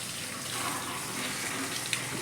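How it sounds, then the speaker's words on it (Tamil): Water runs from a tank while a vehicle is washed, a steady rushing splash close by with no pauses across the short stretch. "டேங்க்லேருந்து தண்ணி இறக்கி வாட்டர் சர்வீஸ் பண்ணுறாரு."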